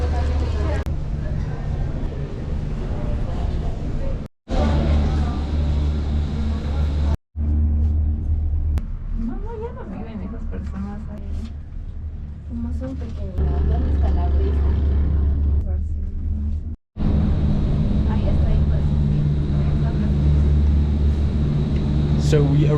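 Low steady rumble and hum of a cable car gliding up toward El Alto, Bolivia, heard from inside the cabin, with faint mechanical creaks, muffled voices in the middle, and a few abrupt cuts.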